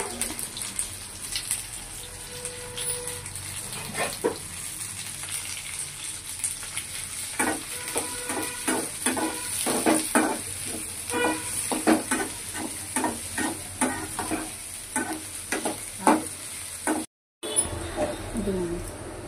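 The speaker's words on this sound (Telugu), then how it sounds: "ఇప్పుడు పోపు దినుసులో వేగిపోయి కదా" Ginger, dried red chilies, green chilies and tempering spices sizzle and crackle in hot oil for semiya rava upma, a steady frying hiss broken by sharp pops and stirring clatters, with a brief dropout near the end and a voice talking in places.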